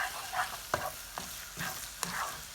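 Egg bhurji, Mumbai street-food style, is stirred constantly as it fries in a pan, with a soft sizzle under a few sharp scrapes and knocks of the spatula against the vessel, close and without talk.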